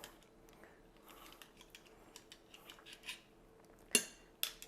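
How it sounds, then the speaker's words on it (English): A spoon scrapes olive oil mayonnaise out of a container in quiet, faint rubbing strokes, ending with two sharper, louder scrapes near the close, with no talking. "take a spoon and clean that out"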